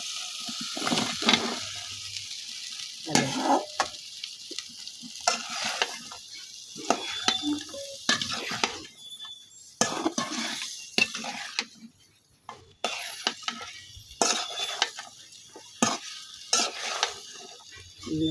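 Snakehead fish added onto fried spice paste and oil in a pan, cooked in a Bangladeshi village kitchen, gives intermittent sizzling bursts mixed with stirring and the clink of a utensil against the pan. No one speaks.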